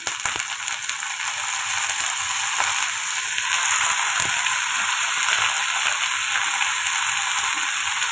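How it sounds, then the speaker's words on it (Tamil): Amaranth stems and onions sautéing in a pan, a continuous close sizzle and crackle with occasional stirring scrapes, steady and fairly loud, no voices. "அஞ்சு நிமிஷம் நம்ம வதக்கிடுங்க கீரை கம்மியாயிரும்"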